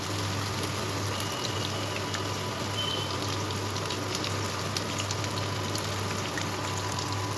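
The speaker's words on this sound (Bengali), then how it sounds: "এগুলোকে আমি গোল্ডেন ব্রাউন করে ভেজে নেব" Soybean chunks deep-frying to golden brown in a pan of oil for vegetarian chilli soya make a steady, continuous bubbling hiss, even and unbroken throughout, with a faint low hum underneath.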